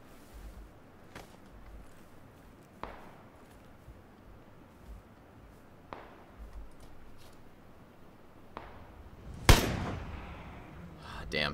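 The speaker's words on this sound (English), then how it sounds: "I heard some shots that direction." Gunfire in PlayerUnknown's Battlegrounds, a few distant sharp cracks spaced several seconds apart, with one louder, closer report near the end, over a low ambient game background.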